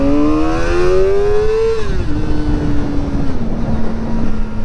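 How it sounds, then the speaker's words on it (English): A Kawasaki ZX-4RR street motorcycle engine whines as it revs up through a gear, then drops pitch in quick stepped shifts with its quick shifter, heard loud and close over steady wind rush. "Oh, it's got a quick shifter."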